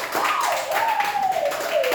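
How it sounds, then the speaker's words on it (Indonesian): A classroom applauds a student during a Year 10 lesson on biography texts, a brief burst of brisk clapping close by, with a voice speaking over it. "Iya, bagus sekali, kita beri tepuk tangan"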